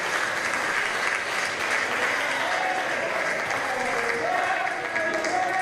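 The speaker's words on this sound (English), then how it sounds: "This capacity crowd here definitely appreciating the action" Steady applause and crowd noise from a capacity audience at a CWE professional wrestling event in Winnipeg, loud and continuous with voices mixed in throughout.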